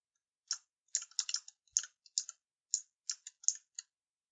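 Computer keyboard keys are tapped in a quick, irregular series of light clicks, close and clear against silence.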